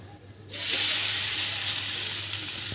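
Poha thalipeeth frying in oil on a pan: after a quiet moment, a sudden loud sizzle bursts up and holds as a steady, close hiss.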